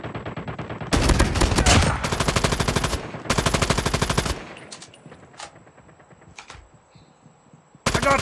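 Call of Duty gunfire: long bursts of rapid automatic fire, loud and close, broken by short pauses, then scattered fainter shots and a final burst.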